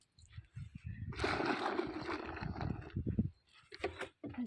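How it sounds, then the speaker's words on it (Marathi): Water gushes and splashes into a large bucket being filled, a steady sloshing pour up close with soft bubbling, fairly quiet overall. "अशी बादली भरून घ्यायची."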